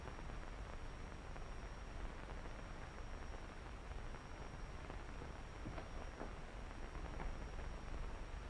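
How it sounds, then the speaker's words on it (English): Steady rain falling outdoors at night, a constant dense hiss with faint patter throughout and no voices. "The rain ought to let up soon."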